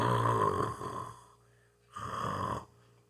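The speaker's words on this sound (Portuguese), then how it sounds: "quando eu estou falando com as pessoas, que as pessoas começam a roncar" Person snoring, two loud rasping inhalations separated by a quiet pause, close and clear with no talk.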